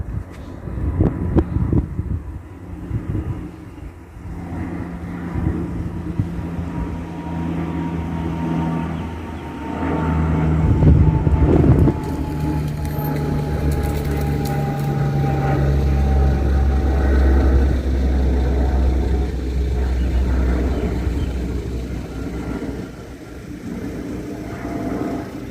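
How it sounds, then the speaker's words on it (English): A De Havilland Canada Dash 8 Q200 takes off low overhead from Sydney, its turboprop drone building to a loud, steady roar with a descending whine, wind buffeting the microphone throughout. "one of probably the lowest Havilland Canada-8Q200 I've ever seen in my entire life, Q 2042 taking off from Sydney to Dubbo"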